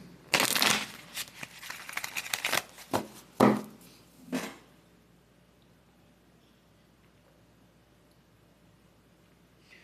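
Gypsy fortune-telling cards riffle and slap in several quick bursts, then handling rustles fade into near silence for the last half.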